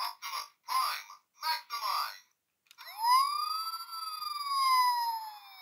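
An Optimus Prime Transformers Robots in Disguise toy from 2000 sounds its electronic siren, a few short pulsing electronic bursts and then a steady rising and falling wail, close and fairly loud.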